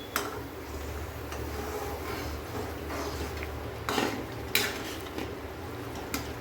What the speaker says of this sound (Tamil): கொஞ்சம் கொஞ்சமாக ரவையை சேர்த்து கிண்டிடலாம்.